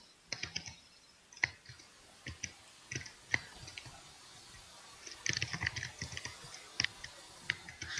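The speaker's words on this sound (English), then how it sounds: "this entire 30 seconds of the podcast is just gonna be typing" Computer keyboard typing during a gaming podcast recording, irregular bursts of quiet sharp key clicks with pauses between, faint and close, no speech.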